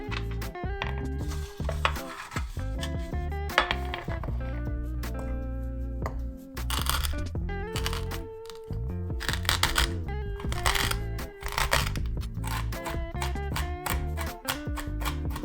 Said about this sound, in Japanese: 好みの粗さまで刻みます。